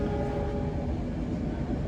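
Inside the executive cabin of the Manahan passenger train in Indonesia, heavy rail and undercarriage noise leaks in as a loud, continuous low rumble with a steady mechanical hum and no voices.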